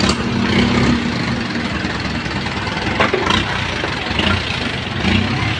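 Motorcycles idle on a busy street in Balot, Tondo, during a clearing operation, giving a continuous, fairly loud engine rumble mixed with general street noise.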